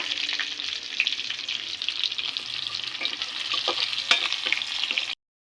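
Pieces of food fry in a pan with a steady, bright sizzle that holds for about five seconds, broken by a few soft clicks of stirring, then stops abruptly.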